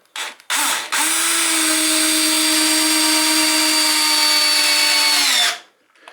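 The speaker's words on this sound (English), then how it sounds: "So I'll try it and put one in with this one." A Black+Decker BL188 cordless drill drives a screw into decking wood, whining in one steady high-pitched run of about five seconds after a short start-up blip, close and loud, then spinning down.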